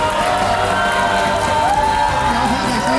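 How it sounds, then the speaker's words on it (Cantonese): An audience at an award ceremony breaks into continuous applause mixed with excited cheering and whoops, a dense, steady wall of crowd noise throughout. "熱烈嘅掌聲"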